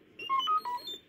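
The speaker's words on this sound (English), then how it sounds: "You will know it is time to turn the page when you hear R2-D2 beep like this." A quick series of high electronic chirps and warbling beeps from R2-D2, the Star Wars droid, clear and alone, lasting about a second.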